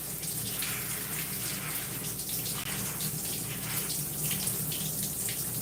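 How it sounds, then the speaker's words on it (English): Water running steadily as shampoo is rinsed out of gray natural hair, a constant close hiss of spraying and splashing that continues unbroken throughout. "Rinsing the shampoo out."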